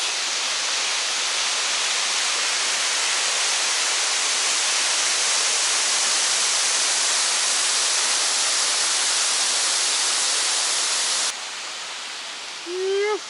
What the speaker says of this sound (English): So we're here at the first waterfall and I'll just show you what that's like.